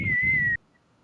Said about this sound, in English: Damn, I'm like really full on whistling here.